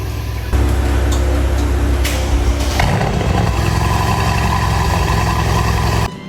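A rebuilt Mercedes-AMG C63s V8 fires up and runs close by, a loud, steady, throaty idle with a few slight revs before cutting off at the end.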